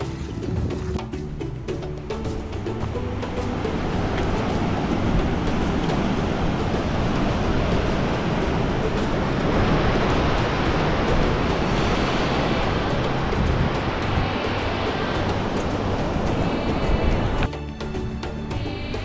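Sea waves wash steadily onto a deserted, quiet stretch of Pulimoot Beach at Cheruvathur, a loud continuous surf roar with a windy rush, with no voices and only a brief dip near the end.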